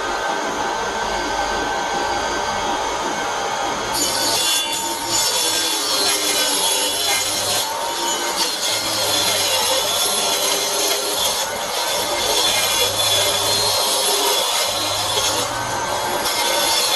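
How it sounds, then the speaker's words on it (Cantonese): A 3mm acrylic sheet is hand-sawn, giving a steady, harsh rasping that runs continuously with repeated stroke pulses. The sound is close and loud, with no talking. "之後鋸塊3mm 板嚟做托架嘅背板。"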